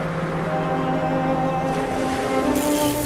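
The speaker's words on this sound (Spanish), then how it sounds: "La furia del mar." Stormy sea waves roll and crash in a steady, dense roar of surf and wind, loud and close, with a low hum like a boat engine running underneath throughout.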